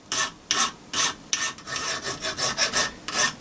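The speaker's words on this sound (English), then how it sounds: "Now this will just be a little filing job." Steel connecting rods held in a vise being filed: close, loud rasping strokes, about a dozen in a steady back-and-forth rhythm that quickens toward the end.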